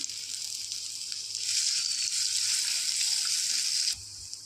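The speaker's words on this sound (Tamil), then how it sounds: "இதை போட்டு நல்லா வறுத்துக்கலாம்" Crushed garlic cloves, skins on, frying in sesame oil in a pan, giving a continuous close hiss of sizzling that swells midway and then drops off sharply near the end, with no voices.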